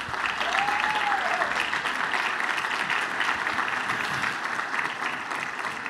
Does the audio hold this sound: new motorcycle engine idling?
no